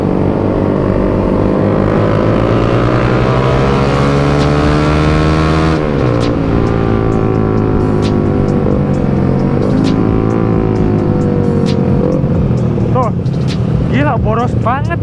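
Yamaha MT-25 motorcycle engine droning loudly and steadily while riding, its pitch rising and dipping with throttle changes, with wind rush and voices talking over it throughout.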